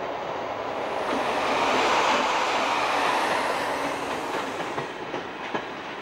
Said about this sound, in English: An empty rake is taken to the mine's loading terminal by a T-44 class diesel